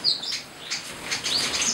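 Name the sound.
small munia finches (burung emprit) chirping in breeding aviary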